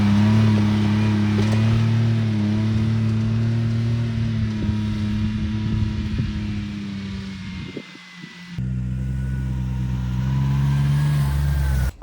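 A CFMOTO U10 PRO utility vehicle engine revs loudly and close by in a steady, throaty roar, dipping briefly near the end before surging back.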